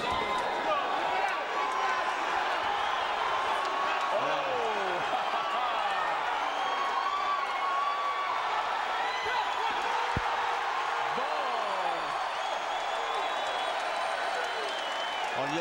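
A boxing arena crowd cheers and applauds during the Adonis Stevenson vs Don George fight. The roar is loud and continuous, with clapping and whistles throughout and a commentator talking over it.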